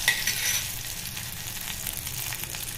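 Curry leaves and a bay leaf fry in hot oil for a Maharashtrian thali, giving a steady, moderately quiet crackling sizzle with faint stirring and no voices.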